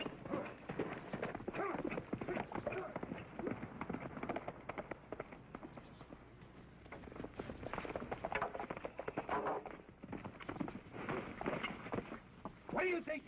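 Horse hooves clip-clop in a quick steady rhythm as a rider gallops off in an old Western, with voices talking over the hoofbeats throughout.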